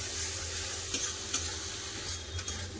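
Tomato and spice masala frying in oil, a dense continuous sizzle with occasional soft stirring scrapes, close and steady throughout.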